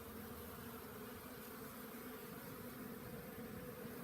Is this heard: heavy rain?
no